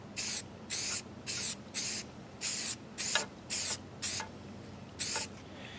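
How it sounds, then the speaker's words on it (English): Spray primer from an aerosol can is applied around a miniature model in about ten short, crisp hissing bursts with brief pauses between them, close and fairly loud, with no talking. "we're going to spray all the way around the model"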